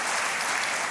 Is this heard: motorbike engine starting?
no